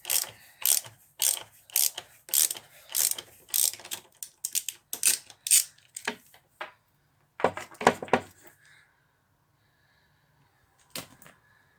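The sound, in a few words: bolts being removed from van floor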